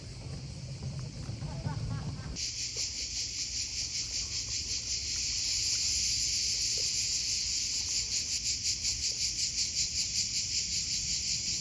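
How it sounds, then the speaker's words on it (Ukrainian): Dense, steady cicada buzzing fills the scene in Split, Croatia, loud and continuous with a pulsing rhythm, after a brief stretch of quieter outdoor sound at the start. "цикади співають"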